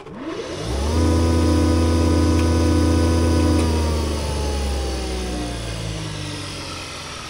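A 3-horsepower jointer planer motor spins up and hums loudly with a steady whine, then slowly winds down in pitch.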